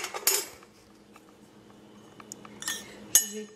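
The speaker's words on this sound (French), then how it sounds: "Je vais mélanger le tout." Spoon stirring spices with a pinch of cayenne in a bowl, a few bright metallic clinks against the dish at the start and end with soft scraping between.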